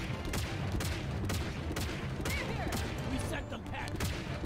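Incoming gunfire aimed at the player in Halo Infinite, a steady string of sharp shots cracking at regular intervals over a constant battle din, moderately loud with faint talk in the mix.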